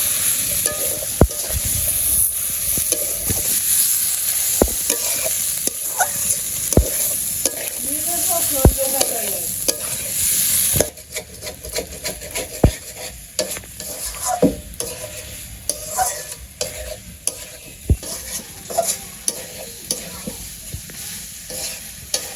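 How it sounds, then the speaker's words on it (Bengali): Potatoes stirred and fried in a pan with spices and green chili paste, loud sizzling under repeated sharp clinks and scrapes of a spoon against the pan, continuous throughout with no talk. "তোমার আলু কষানো হয়ে গেছে"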